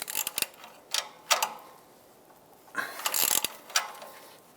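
A ratchet tightens catalytic converter bolts on a 2008-2012 Jeep Liberty with a 3.7L V6, giving short bursts of quick clicking separated by pauses, close and fairly quiet.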